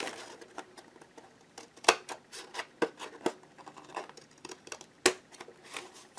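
Scissors snip through the edge of a folded paper mini journal, a string of small crisp cuts at an uneven pace, close and quiet, with a few sharper snaps.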